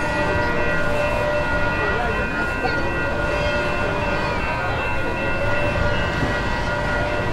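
A Metrolink commuter train rumbles steadily past at close range heading north in San Clemente, California, a broad continuous roar with metallic squeals and a faint tonal hum above it.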